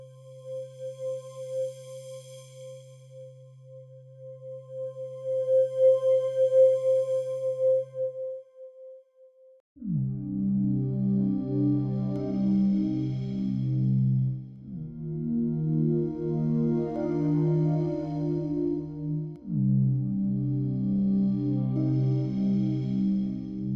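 Synthesized soundscape tones from a CinSyn Mod2 synth: a soft sustained pad first, then thick evolving droning chords that swell and shift in three loud sections, with no voice.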